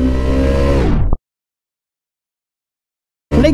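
A Hero Xtreme 160R Stealth Edition motorcycle engine revs hard and loud for about a second as it accelerates in a 0 to 100 performance run, then cuts to silence before another burst of engine noise returns at the end.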